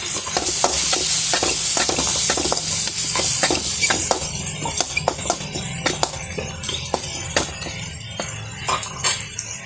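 Mutton suvarotti stirred with masala and chili powder in a sizzling pan, a spoon scraping in steady repeated strokes over continuous frying hiss, close and loud throughout.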